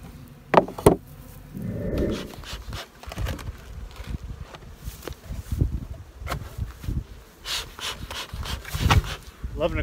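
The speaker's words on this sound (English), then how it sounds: "And the bees are just starting to get out in flight" Bees buzz around open dry feeders in a cool breeze, a faint scattered hum mixed with rustling, footsteps and brief handling noises.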